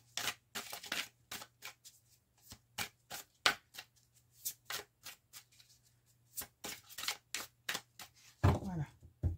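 A deck of tarot cards is cut and shuffled by hand, with a rapid run of crisp riffling snaps and flicks in uneven bursts, close and fairly quiet, with a short rustle near the end.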